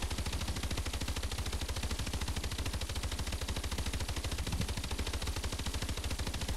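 Rapid automatic gunfire in the video game Advanced Warfare, a dense unbroken stream of evenly spaced shots rattling for several seconds, loud and close, with no talking.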